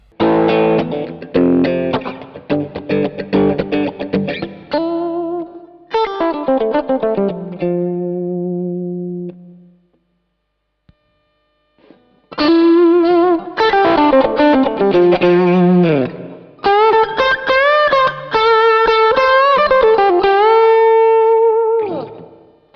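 Electric guitar played through a Wampler Pinnacle distortion pedal with its boost engaged, thick grainy mid-heavy chords and riffs with sustained ringing notes, a pause in the middle, then louder strummed passages.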